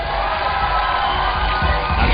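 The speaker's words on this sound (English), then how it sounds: "And the crowd cheers on the return of the Brazilians." Loud, dense crowd cheering and shouting at a beach volleyball Grand Slam semifinal in Stavanger between Germany and Brazil, a steady roar of many voices swelling slightly toward the end.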